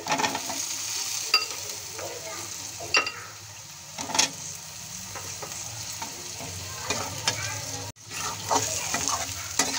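Cut potatoes fry with spices in a pan for an eggplant and pangas fish curry, making a continuous close sizzle with irregular stirring scrapes and clinks, and a brief break near the end.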